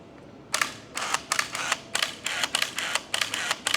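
A Nikon F2 film camera with motor drive fires a rapid burst with the mirror cycling, about a dozen sharp mechanical shutter clacks in steady quick rhythm, close and loud with no talk.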